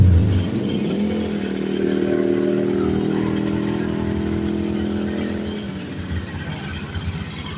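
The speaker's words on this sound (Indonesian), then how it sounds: "Motor langsung hidup di sini." A motorcycle engine fires up and settles into a steady, close idle, a loud mid-pitched rumble with clattery texture holding evenly for several seconds without any talk.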